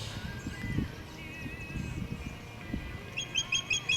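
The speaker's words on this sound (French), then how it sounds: "C'est un faucon, je crois." A falcon gives a short series of high, sharp repeated calls near the end, heard near the Waccamaw River over low outdoor rumble and faint chirps.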